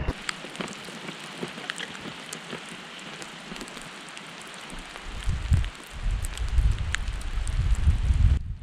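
Raindrops patter on a raincoat during a rainy European motorbike tour, a steady close hiss of rain with scattered sharp drop ticks, joined in the second half by louder low rumbling wind buffeting the microphone.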